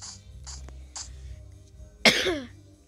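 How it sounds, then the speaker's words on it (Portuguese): A single sharp, loud cough bursts out near the end, after several softer breathy sounds over a low steady hum. "Me desculpe pela tosse de novo."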